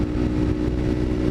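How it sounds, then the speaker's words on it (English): A 2013 Kawasaki Ninja 300 fitted with an M4 exhaust cruises at about 70 mph on a windy coastal road. It gives a steady, close engine drone blended with heavy wind rush, with no talk. "The M4 exhaust sounds awesome on this bike."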